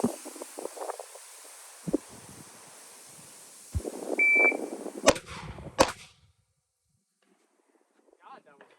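Two sharp gunshots fired in quick succession at a shooting range from a compressed ready position, loud and close, following a few earlier muffled thumps and some speech, then near silence.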